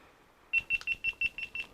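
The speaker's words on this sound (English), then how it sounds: "Quadruple beeps. And we have the beeps of panic." A camera sounds a rapid string of about eight short, high electronic beeps as its power button is held down to turn it off, close and clear against a quiet room.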